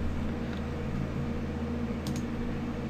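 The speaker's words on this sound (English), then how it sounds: "That noise you're hearing in the background is actually my computer fan" A desktop computer fan hums steadily in the background, a low, constant drone with a few faint clicks over it and no talk.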